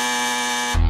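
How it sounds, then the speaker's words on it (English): A loud game-show style buzzer, like the one used on Australia's Got Talent, drones steadily for most of a second before cutting off into a brief low buzzing pulse. "we've got Australia's Got Talent buzzer style"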